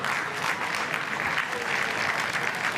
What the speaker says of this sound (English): Those claps.